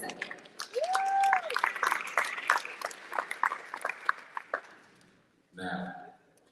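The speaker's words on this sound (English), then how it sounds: "please give another round of applause for Douglas Martin II" Audience applause at a Miss Omega Psi Phi pageant, a broad wash of clapping rising quickly and sustained for several seconds before fading, with a brief burst of speech near the end.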